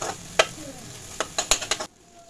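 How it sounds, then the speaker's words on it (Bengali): Spice masala for doi katla, with a few grains of sugar added, is stir-fried in a pan: quiet sizzling under a quick run of spatula scrapes and knocks that stops abruptly. "ভালো করে এবার কষিয়ে নেব সব কটা।"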